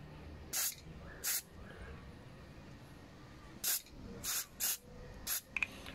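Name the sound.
spraying carburetor cleaner into Ryobi RTL25GMCS carburetor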